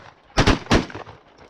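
Shotguns fire at Canada geese during a late-season goose hunt in Pennsylvania, three loud, close blasts in quick succession with a short gap before the third, fading into quiet.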